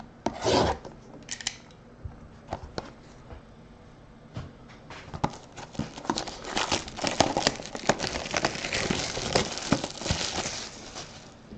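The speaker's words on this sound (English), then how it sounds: "Here's our trusty box cutter." Box cutter slicing open a cardboard box of Topps baseball cards, a close raspy scraping and rubbing of blade through cardboard with crinkles, starting in bursts and growing denser and louder toward the end, no voices.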